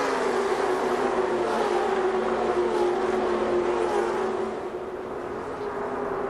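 NASCAR Busch Series stock cars roar around the track during the 2000 Napa Auto Parts 300, a loud, dense and continuous engine drone that eases slightly near the end, with no voices.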